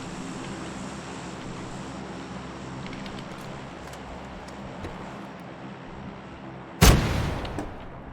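An anti-tank weapon fires in the PUBG video game: one sudden loud blast near the end, trailing off briefly, after a long stretch of low ambient rumble from the game.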